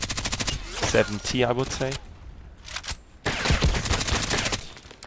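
Rapid bursts of Vintorez sniper rifle fire in a deathmatch video game, sharp repeated shots in quick clusters, with someone talking over and between them.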